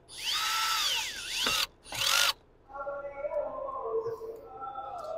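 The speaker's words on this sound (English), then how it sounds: "I am using a power tool, so I will be turning my clutch basically all the way down" A power drill whirs in two bursts, its motor pitch rising and dipping as it drives a screw, clutch set low, in a Honda Accord interior during e-brake and shift button replacement, followed by a person talking.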